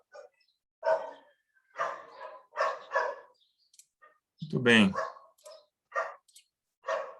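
Dogs barking in the distance, several separate sharp barks spaced through the clip, with someone talking between and over them.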